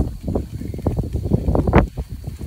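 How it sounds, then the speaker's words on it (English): Gusts of wind buffet the microphone in rough, uneven bursts of low rumbling, close and continuous, with no voices, at a campsite. "it's a bit windy"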